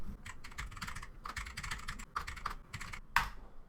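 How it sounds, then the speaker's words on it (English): Keys on a computer keyboard are tapped in a quick, irregular stream of soft clicks, with one sharper, louder keystroke near the end, heard faintly and up close without speech. "simply press and hold down the shift key on your keyboard and then type the first letter"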